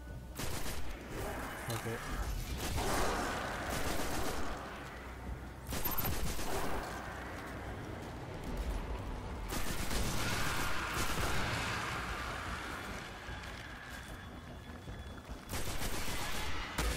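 Bursts of rapid weapon fire from a player's gun in Destiny 2 on PS4, loud and close, coming in several volleys with short pauses between them under ongoing game sound.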